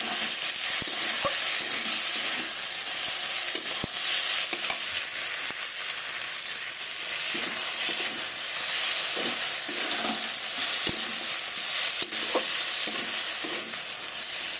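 Duck eggs and okra being sautéed in mustard oil in a pan fill the scene with a constant loud sizzle, interrupted by occasional scrapes and knocks of a stirring utensil.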